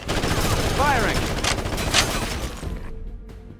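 Rapid bursts of gunfire from the video game Ghost Recon Advanced Warfighter crackle continuously and loudly, mixed with game effects and a brief shouted voice partway through.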